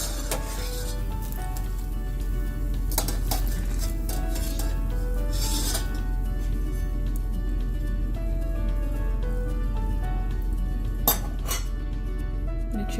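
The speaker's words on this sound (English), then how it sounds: "I'm going to take them out using this spider spoon" A metal spider spoon lifts baby plantain fritters out of hot oil, making light metallic clinks and scrapes against the pan over a continuous low hiss, with music playing underneath.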